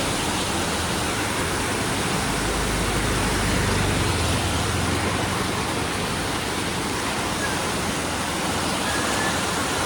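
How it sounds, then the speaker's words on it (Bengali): Very heavy rain pours down in a loud, steady, unbroken roar, close by and continuous for the whole stretch with no voices over it. "খুব জোরে বৃষ্টি হচ্ছে মানে খুব জোরে"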